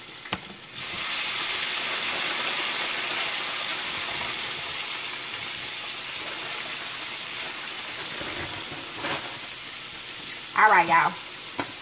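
Fish frying in reused fish grease gives a steady, loud broadband sizzle throughout, with a brief spoken phrase near the start and a short clatter and voice burst near the end.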